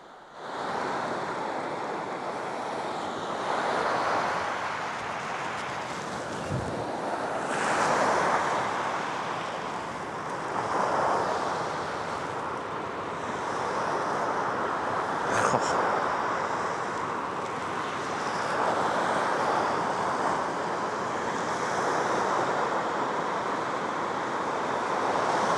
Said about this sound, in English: So I'm just walking along the beach here